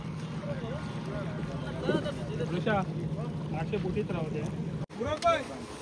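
A steady low engine drone from a fishing boat coming in to shore after a deep-sea fishing competition in India, droning throughout while voices call out and chatter nearby.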